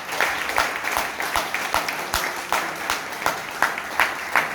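A Toastmasters meeting audience in Bangalore claps in a steady, rhythmic burst of applause that stays fairly loud and even across the whole stretch, with no talking over it.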